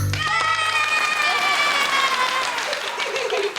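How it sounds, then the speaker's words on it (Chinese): A burst of clapping from a group, loud at first and then trailing off, with some voices under it. "那我们是不是应该要掌声鼓励一下啊？"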